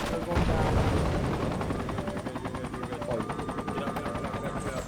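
Helicopter in the game Project Reality BF2, a loud rapid rotor thump pulsing steadily throughout with engine whine, while people talk over it.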